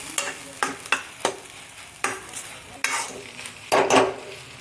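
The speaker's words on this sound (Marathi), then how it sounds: "हा जो भात आपण फोडून घेतलेला आहे तो टाकून घ्यायचा. संपूर्ण आहे ना मिक्स करून घ्यायचा." Crumbled cooked rice is stirred into a mixture in a pan, with a spoon repeatedly scraping and clinking against the pan over a soft sizzle, close and alone.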